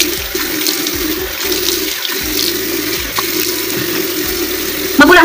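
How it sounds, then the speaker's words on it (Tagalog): Water runs steadily from a bathroom tap, a continuous close hiss and splash that fills the whole stretch at an even level, with a brief clatter near the end. "So, buksan natin yung tubig."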